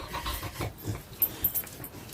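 A wet dog pants in quick, rough breaths close by, with small snuffles and a few sharp clicks, outdoors after a dip.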